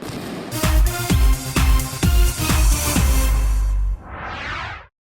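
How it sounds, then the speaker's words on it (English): A rapid series of loud New Year's midnight firework explosions booms and crackles close by, then a final whooshing burst fades out. "spectacular firework displays at midnight"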